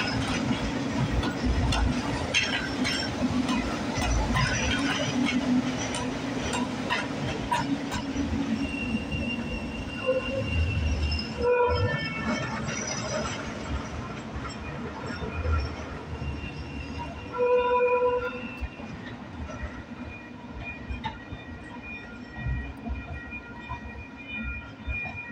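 An inbound Gold Line light rail train in Sacramento rolls past at a street crossing. There is a loud rumble and wheel clatter, then high metallic wheel squeals and ringing tones as it goes by at close range.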